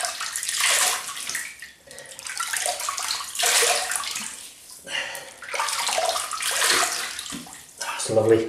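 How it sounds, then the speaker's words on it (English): Water splashing in bursts at a sink as a face is rinsed after a shave with Palmolive shaving cream, several broad wet surges close by with short pauses between them. "Just going to rinse the face."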